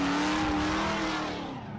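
A Mazda FC RX-7 drift car on Nitto tires spins out during Formula Drift qualifying, its tires screeching loudly and steadily beneath a droning engine roar that fades slightly toward the end.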